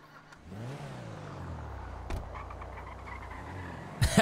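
A stolen car in a video game pulls away, its engine revving upward and then holding a steady, close drone, with a sharper burst of noise at the very end.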